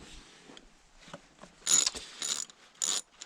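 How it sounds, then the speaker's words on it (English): A ratchet wrench works bolts loose on a Kubota D1403-powered MQ Power WhisperWatt 10 kW generator, giving a few quiet, close mechanical clicks, then three louder bursts of rapid ratcheting. "So let's take off some of the other bolts."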